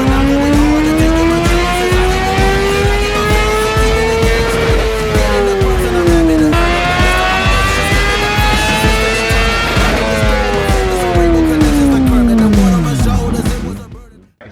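A 2018 Honda CBR1000RR with a Yoshimura slip-on exhaust revving on a dyno, loud, close engine notes sweeping up through the rev range in repeated pulls, then dropping off abruptly at the end.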